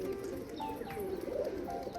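A Rajshahi pigeon, a hen kept in a loft, coos softly and steadily through the whole stretch, its low murmuring notes close by with no talk over them.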